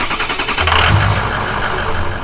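A 2005 Ford Excursion 4x4 with a diesel engine and 121,000 miles runs loudly close by, a deep rough idle that swells briefly in the middle before settling back, with no voices.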